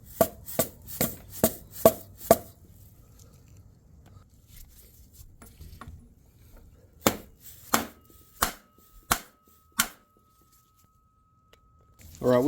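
A sleeve being tapped into place on a 5.7L HEMI engine in a 2005 RAM 1500, with two bursts of sharp, evenly spaced knocks, six in quick succession and then five more after a pause, and brief speech between them.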